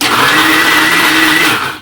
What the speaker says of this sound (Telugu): ఇప్పుడైతే మిక్సీ పట్టుకోవాలి.